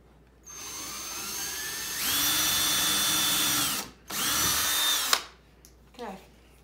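A power drill boring holes into an alligator model. A quieter whir starts first, then two loud high-pitched drilling bursts of about two seconds and one second, with a short gap between them, close by.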